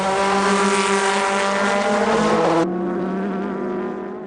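Race cars at the 2002 24 Hours of Le Mans near the Arnage corner give a loud, close, high-revving engine scream that cuts off abruptly into a lower, fading drone as the car pulls away.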